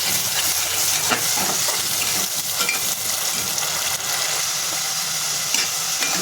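Ground masala paste for stuffed bitter gourd sautés in hot oil in a pan, giving a steady, close sizzle broken by occasional scraping stirs.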